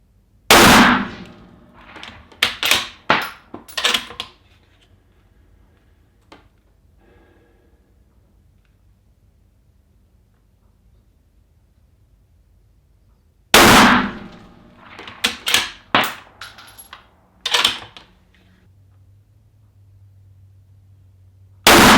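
Two loud, sharp rifle reports from an Accuracy International AI-AT at a target range, each followed by rapid echoing clangs and ringing. Long quiet gaps separate the shots.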